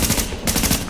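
A submachine gun in The Division rattles off a rapid, close, loud burst of shots in quick succession, with no voices.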